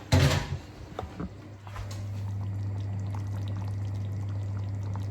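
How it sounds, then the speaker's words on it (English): Leftover KFC gravy is poured from a pan over rice, with a short splashy pour and a few clinks at the start. A steady low stovetop or kitchen hum follows, and no one speaks. "the gravy, to go over the rice when everything's done"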